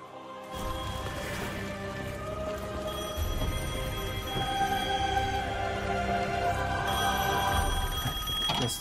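An old telephone bell rings repeatedly in Devil May Cry 5, loud metallic trilling bursts over game ambience, continuing for several seconds without speech.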